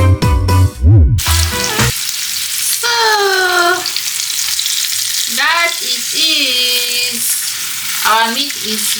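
Meat fries in olive oil with a loud, close sizzle. Squeaky, warbling scrapes from stirring in the pan cut in several times, and a sharp clattering burst comes at the very start.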